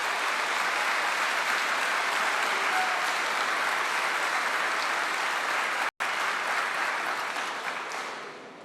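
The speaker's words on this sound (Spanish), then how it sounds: "Por si no se escuchó por los aplausos" Sustained, dense applause fills a congress chamber during an opening-session presidential speech, loud and steady with a brief cut before it continues and slowly fades.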